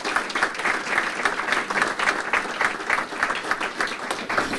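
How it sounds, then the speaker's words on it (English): Audience applause at a community luncheon for a village state-of-the-village address, steady dense clapping from a large crowd throughout, fairly loud and without pauses. "Please give them a round of applause for their support."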